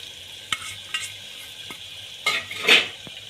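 Sliced onion tipped into a hot pan for an ivy gourd (gilodi) and potato curry, giving a soft sizzle with a few scattered clinks and scrapes of a utensil against the pan, fairly close and without talk.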